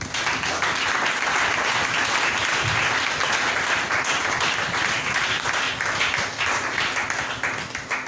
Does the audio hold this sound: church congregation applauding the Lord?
yes